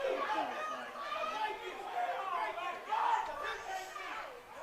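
A high school football crowd at a Friday night Samson vs. Brantley game roars and jeers in displeasure after a flag on the play, a loud sustained mass of voices with no single speaker standing out.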